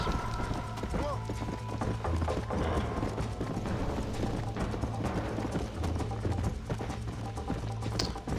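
A galloping horse's hooves pound a road in Red Dead Redemption on Xbox One, a fast continuous clatter of clip-clops under steady game sound, with a voice talking intermittently over it.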